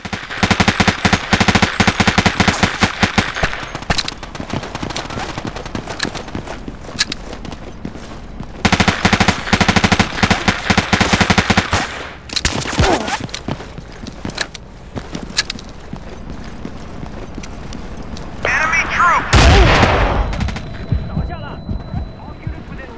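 Stationary weapon in a video game firing long loud automatic bursts, rapid clattering shots in several sustained runs separated by brief lulls, with a heavy boom near the end and a voice speaking in between.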